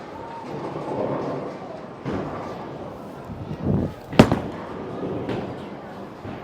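A Columbia 300 Rally bowling ball rumbles down the lane and strikes the pins with a sharp crash near the end, followed by a clatter, amid alley noise and faint voices.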